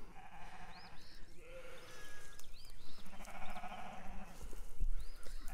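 Sheep bleat repeatedly in a farmyard with goats and a Karakachan livestock guardian dog nearby, several wavering calls rising above steady outdoor noise, fairly faint and at a middle distance.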